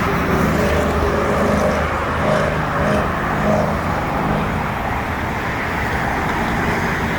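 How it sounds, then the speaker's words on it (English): Steady, loud roar of freeway traffic heard from Lake Avenue Station, a Metro platform a few feet below the car level, on a Friday morning; a continuous wash of passing cars and heavy vehicles with no voices. "It's just a couple of feet below the freeway, the car level."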